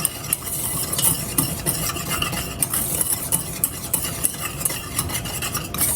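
A whisk or spoon stirs dry cocoa, cornstarch and sugar together in a bowl for a chocolate pie filling, giving steady scraping strokes with light rhythmic clicks against the bowl, close and fairly quiet, with no talking.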